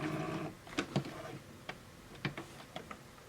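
A sewing machine stitches fabric in short bursts while a beginner squares off a corner, giving a few brisk mechanical ticking runs separated by pauses, close and moderately loud, with no talking.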